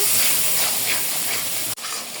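Spice paste with turmeric and salt fries in a pan, giving a loud, steady, close sizzle that briefly cuts out near the end before hissing on again.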